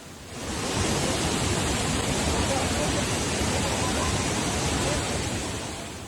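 Kaval Waterfall in Hakkari, a natural falls in the foothills, pours with a constant, dense roar of rushing water that swells in at the start and holds steady throughout, with no voices heard.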